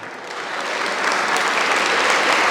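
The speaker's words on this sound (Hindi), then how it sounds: "एक बार तालियां बजाएं आप लोग।" A large audience at a school poetry gathering breaks into dense, sustained applause that builds and holds loudly to the end.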